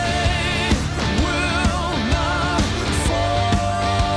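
A dense, loud passage of rock music, with layered guitars, bass and drums playing steadily throughout with no voices over it.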